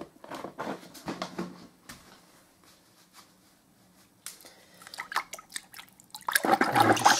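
Wallpaper paste with PVA is stirred in a bucket, giving wet sloshing and scraping bursts that pause briefly and then return louder and splashier at the end, with no talk.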